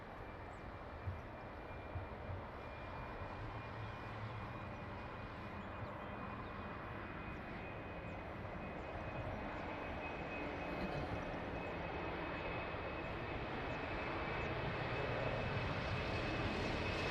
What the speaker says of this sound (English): So let's try to catch aircraft on final.